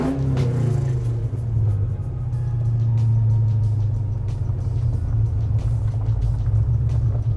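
A deep, steady Oldsmobile Cutlass engine rumble runs throughout, loud and close, with a constant low drone and no talking.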